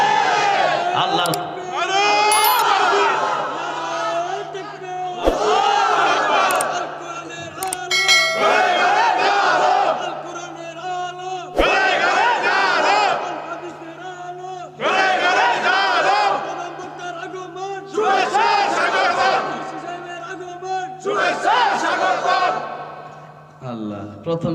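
A large crowd at an Islamic religious gathering roars slogans in unison, answering a leader in loud, rhythmic bursts every few seconds, with brief pauses and a steady hum between the chants.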